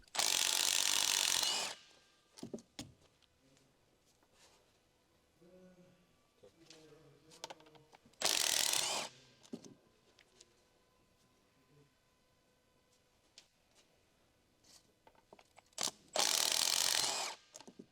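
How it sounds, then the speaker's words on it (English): Front drive shaft mounting bolts on a 2011-era Ford Explorer 3.5L are spun out with an electric impact wrench and socket, giving three loud, harsh bursts of about two seconds each with quiet pauses and light clinking between them. "remove the front drive shaft mounting bolts."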